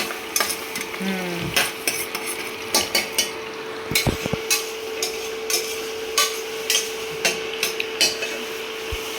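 Chilli, onion and garlic hitting hot oil with curry leaves in a kadai, giving a steady sizzle under repeated sharp clanks and scrapes of a metal spoon against the pan, close and fairly loud, with no talking.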